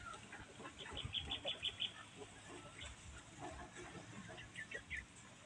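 Chickens cluck and call inside a poultry house, a short run of rapid clucks followed by scattered softer calls over a low background murmur.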